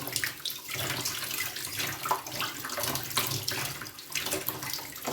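Tap water runs steadily into a sink while beef tripe is rinsed and cleaned under it, a continuous close splashing hiss with small shifts as the water hits the casing, no voices.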